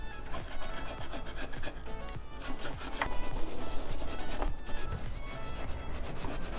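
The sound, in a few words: scrubbing a motorcycle chain with a brush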